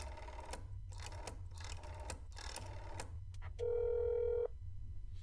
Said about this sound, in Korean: 전화해봐야지.